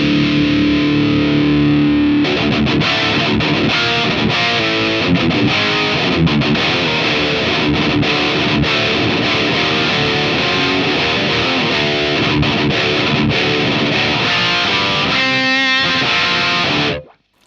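An electric guitar plays through an Abasi Pathos distortion pedal, dense and saturated with a continuous wall of riffing and chugging, loud and close for the whole stretch before cutting off at the end.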